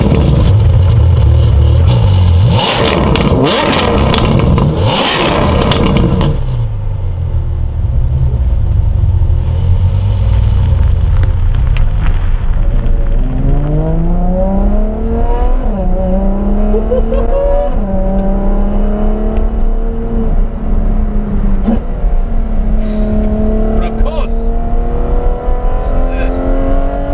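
Loud Ferrari F12 TDF V12 engine revving hard while driving, with rising and falling pitch sweeps through gear changes after an opening burst of rumble and exclamation; someone speaks over it briefly.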